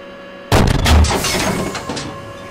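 A tank cannon fires a HEAT round in the Steel Beasts Pro simulator: one sudden loud blast with a deep low thump, then a rumbling decay lasting about two seconds.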